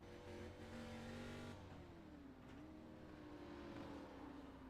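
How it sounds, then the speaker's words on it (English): A race car engine in a racing sim at Watkins Glen International, heard from the driver's seat: a steady, droning high-revving note that dips and climbs with gear changes, continuous and fairly faint, with no talking. "I want to hear what the engine sounds like from Matt Kent's point of view."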